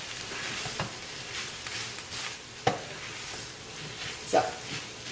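Food frying in a pan for a Russian stew, a steady low sizzle with occasional sharp clicks and stirring scrapes, fairly quiet and close.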